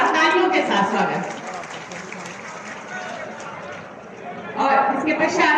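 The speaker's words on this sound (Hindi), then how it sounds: "मैं जोरदार तालियों के साथ स्वागत।" Audience applause and clapping welcoming a loan cheque recipient at a Uttar Pradesh government event with the Chief Minister, a steady crowd-wide patter that dips in the middle and swells again near the end, with chatter mixed in.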